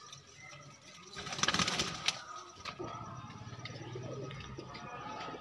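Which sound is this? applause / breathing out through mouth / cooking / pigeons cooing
pigeons cooing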